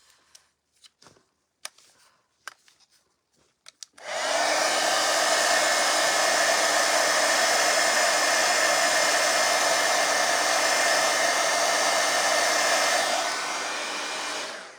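A hair dryer blasts over wet paint between coats, a loud, steady, close whoosh that runs for about ten seconds and then drops slightly in level. A few soft handling clicks and rustles come before it.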